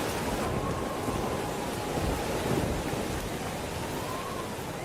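Steady, dense rain pours in a cartoon thunderstorm, with gusting wind rushing through a constant wash of broadband noise and a low rumble underneath, continuous and fairly loud throughout without speech.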